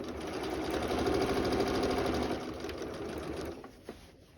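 A sewing machine stitches quilt binding at a fast, steady pace, a close whirring buzz with rapid needle rhythm that slows and stops near the end, with no talking.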